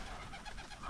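Pigeons coo softly in a short, faint burst, heard alone with no voices.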